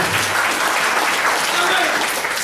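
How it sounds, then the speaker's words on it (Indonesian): Steady, dense applause from a large church congregation during a Sunday service, sustained and fairly loud throughout with no pauses. "Berikan tepuk tangan yang meriah buat Tuhan."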